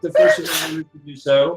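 One sharp, loud sneeze from a person bursts out close by, with people talking just before and after it.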